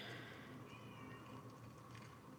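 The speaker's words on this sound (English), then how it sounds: "That was definitely a cat in the game." A cat meows in a game soundscape, set against steady ambient background noise, with a drawn-out tonal cry in the middle.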